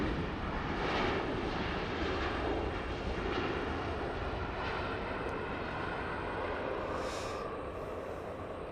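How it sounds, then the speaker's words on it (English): A Boeing 787 Dreamliner airliner comes in to land and slows down, its engines producing a broad, continuous rumbling roar heard from a distance outdoors, steady with slight swells, with no voices. "Dreamliner coming in and slowing down."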